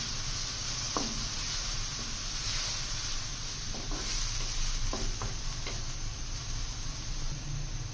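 Finely chopped onions hit a hot pan of keema and bitter gourd, giving a steady, close sizzle with a few light stirring knocks, no voices over it.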